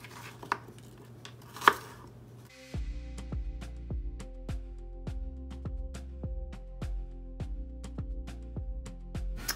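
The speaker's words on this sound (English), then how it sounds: "so I'm just gonna roughly chop it up because they're all gonna break down in the crock pot anyway." A knife roughly chops onions, garlic and peppers on a cutting board for a crock pot sauce, a string of sharp, evenly spaced close taps after a few quieter clatters, with no talking.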